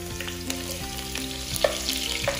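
Garlic and onion frying in oil in a pot, giving a constant close sizzle with small crackling pops scattered through it.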